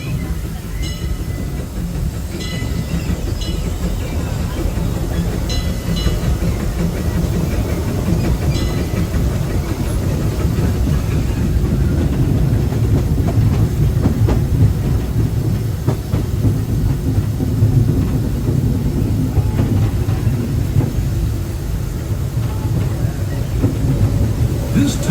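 Big Thunder Mountain mining train ride at Disneyland, a loud continuous rumble of rail cars rolling along the track with clattering wheels and mechanical roar, close and sustained throughout.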